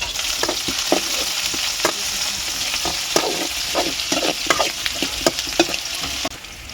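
Sliced onions with salt frying in a pan for a tribal-style curry, a loud close sizzle with repeated rhythmic scraping strokes of a spatula stirring, no talking.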